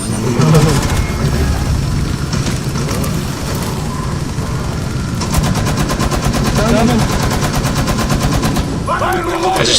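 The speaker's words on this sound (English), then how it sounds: "I just filled him with turret lead." Sustained rapid turret gunfire in the video game Rainbow Six Extraction, loud and continuous with dense bursts throughout and faint game noise beneath.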